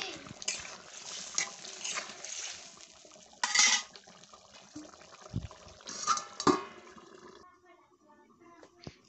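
Meat is stirred in a cooking pot in a home kitchen, with irregular metallic scrapes and clinks of a utensil against the pot, a few louder knocks, and soft liquid sizzling underneath.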